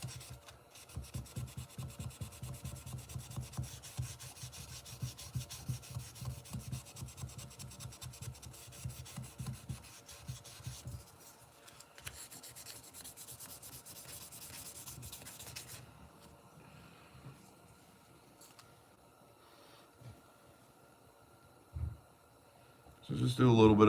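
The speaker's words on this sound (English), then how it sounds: "So just do a little bit of 3-in-1 on the sandpaper, kind of help cut down on the polishing later on." A cartridge case is rubbed with oiled sandpaper in quick back-and-forth strokes, a soft rasping close by that slows and fades toward the end.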